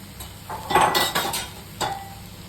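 A spoon or spatula scrapes and clinks against a pan while egg fried rice with coriander is mixed; a few short metallic scrapes and taps, close and fairly quiet, with no talk.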